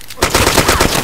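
Rapid close gunshots in the video game DayZ, a quick loud string of about seven cracks in one second.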